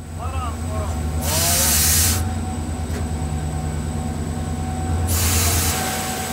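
A train at Oran railway station in Algeria, a steady low rumble of cars and engine with loud bursts of air hiss, and faint voices in the background.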